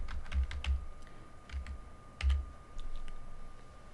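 Text being typed on a computer keyboard into a 3D design program, with short clusters of soft key taps separated by pauses, close and quiet.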